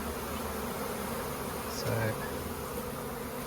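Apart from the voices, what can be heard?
swarm of honey bees buzzing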